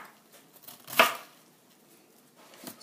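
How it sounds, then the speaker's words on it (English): A single sharp knife chop through cabbage onto a cutting board rings out near and clear in a quiet kitchen, followed by a faint soft knock near the end. "and then I kind of give it another little chop like that"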